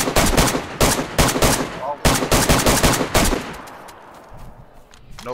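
Gunfire in the survival game DayZ: rapid, loud bursts of close shots in quick succession that thin out and fade toward the end.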